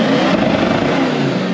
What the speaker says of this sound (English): Rev limiter, good lad. Straight to limiter.